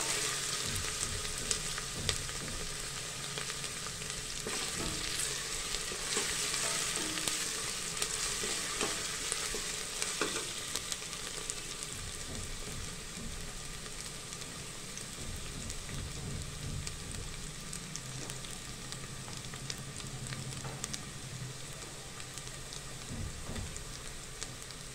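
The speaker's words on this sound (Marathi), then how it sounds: "छानपैकी आपल्याला आता हा कांदा लालसर होईपर्यंत परतायचा आहे मंडळी।" Onions for a spicy Satara-style mutton dish fry in a pan and are stirred, giving a continuous soft sizzle with scraping stirring strokes throughout, fairly quiet and without speech.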